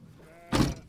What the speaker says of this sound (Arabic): نزل الغنمات وحطها مع غنم ابو خزعه